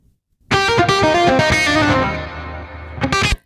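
A sustained, bright electric guitar chord rings out, strummed with a few sharp attacks, then decays before a final short strum; no voices.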